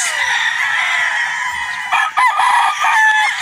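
A gamefowl rooster at a Batangas game farm crows loudly and close, one long strained call followed by shorter clucking notes, with other birds faintly behind.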